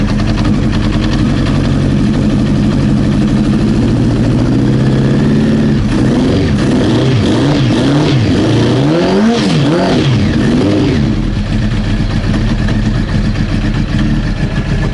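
A Honda CBR 900 Fireblade motorcycle with running issues idles loudly while warming up, holding a rough steady note before the revs rise and dip in several uneven waves, then settle back to idle; no talk.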